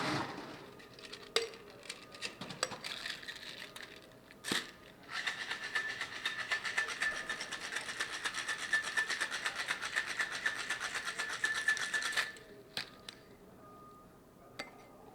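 A cocktail of fresh lime juice and Campari with ice is shaken hard in a steady rattling burst lasting about seven seconds, with a few sharp knocks before and after.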